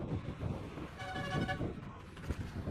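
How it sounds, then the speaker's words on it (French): Car horns toot in busy Indian road traffic, a cluster of steady honks mid-clip over a rumbling background of engines and street noise. "Et chose indispensable quand tu conduis en Inde, le klaxon. Ça klaxonne absolument tout le temps pour se prévenir l'un l'autre."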